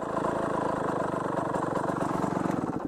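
A Derbi GPR 50cc motorcycle with a Conti exhaust idles steadily up close, a fast buzzing two-stroke putter that runs loud and even throughout with no talking.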